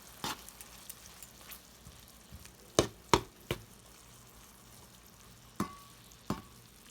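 Ground meat fries quietly in a pan with a faint, steady sizzle, broken by several sharp scraping and stirring knocks from a utensil.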